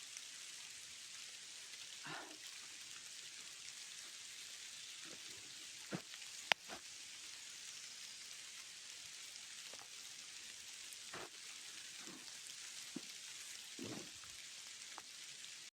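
Light spring rain patters softly and steadily in a forest, with scattered louder drips and taps standing out now and then; no voices.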